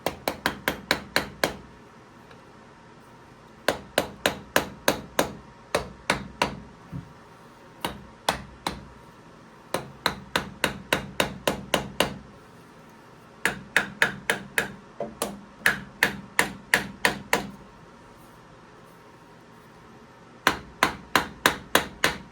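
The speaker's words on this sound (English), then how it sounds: "a hammer or something. Knock this thing off of here." Sharp metallic hammer strikes knocking a part off a Sportster drag bike, in rapid bursts of several blows, pausing briefly between groups, loud and close throughout.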